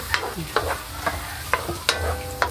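Garlic frying in a pan for pancit canton with chicken liver, a steady sizzle broken by about six sharp scrapes of a spatula stirring it, close and alone.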